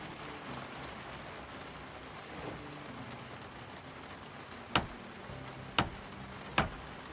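Quiet, steady rain patter in a survival video game, a soft continuous hiss with three sharp clicks near the end.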